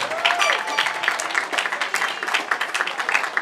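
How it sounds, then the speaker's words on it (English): Graduation ceremony audience giving a round of applause, a brief, moderately loud burst of many hands clapping in an indoor hall. "let's give Dr. Eve another round of applause"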